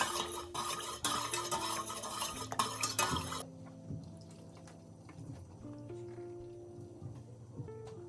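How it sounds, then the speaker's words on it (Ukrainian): A spoon stirring a tomato-canning marinade of oil and sugar in a pot, scraping and clinking busily at first, then quieter, over soft background music. "Все це ретельно перемішайте"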